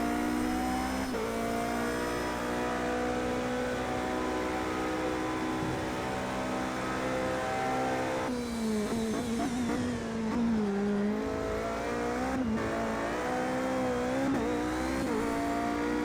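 A race car engine howls at full throttle in a racing video game on the Nurburgring GP circuit. The loud, sustained whine climbs through the gears with brief dips at shifts, and there is no talk.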